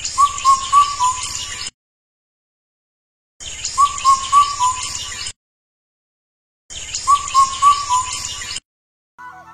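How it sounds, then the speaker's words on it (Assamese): An Indian cuckoo (keteki bird) calls in three evenly spaced bouts, each a couple of seconds of repeated whistled notes with pauses of silence between, clear and fairly close with no talking. "দিনে ৰাতিয়ে শুৱলা মাতেৰে চিঞৰি থকা এই চৰাইজনীৰ নাম হৈছে কেতেকী চৰাই।"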